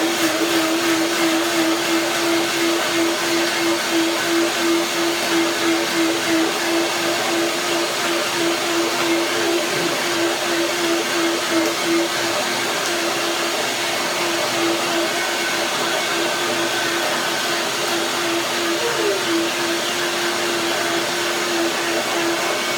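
A blender whirs steadily, blending a dill cashew cream dressing with a constant motor whine that holds one pitch for over twenty seconds and has no talk over it.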